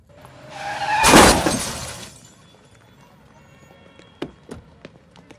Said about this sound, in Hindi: गाड़ी ठोक दी मेरी